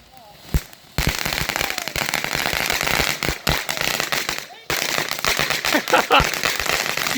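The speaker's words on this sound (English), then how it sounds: "There's more fireworks." Fourth of July fireworks crackle and pop in dense, rapid bursts after a single early bang, with a short pause in the middle, sounding close and loud with voices occasionally heard.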